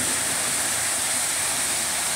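Water gushes hard from a tunnel outlet on a concrete river canal, a loud, constant roaring wash that fills the whole clip with no talk.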